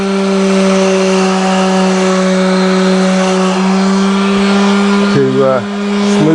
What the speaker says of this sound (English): So I'm just doing a light sanding